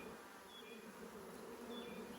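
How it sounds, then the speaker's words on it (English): Honey bees in a queenless nuc box hum in a low, steady buzz close by, the sound quiet but constant with a few higher-pitched whines drifting over it. "these bees here now are starting to call the rest of them"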